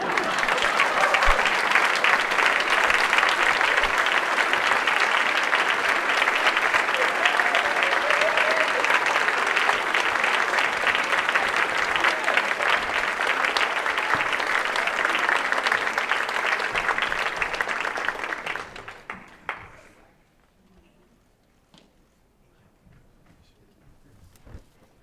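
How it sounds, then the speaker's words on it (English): A large audience at a college's spring State of the College event gives sustained, dense applause for faculty award recipients, holding steady and loud for about nineteen seconds before fading to near silence. "Yes, let's applaud all three of them, all three of them."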